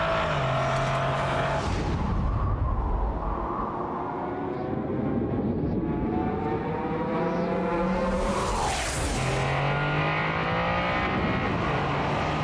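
A turbocharged inline race car engine in the Toyota Gazoo Racing GT esports game roars loud and close, revving up through gears with clear shift drops and a brief whooshing pass, with no talk.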